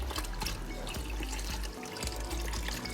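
Broth poured into a pot of white chicken chili, a steady liquid trickle and splash running continuously for about three seconds with a low rumble underneath and no talking.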